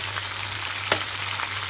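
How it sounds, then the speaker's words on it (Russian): Beans fry in a pan with a dense, continuous sizzle heard up close, broken once by a brief sharper crackle or stir, and no one speaking. "И пусть это у меня теперь все вместе жарится."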